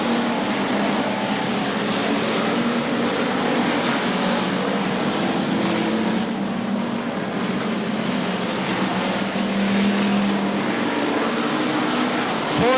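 Race cars lapping Gallatin Speedway, a dense, steady engine roar filling the whole stretch at constant loudness, with no speech over it.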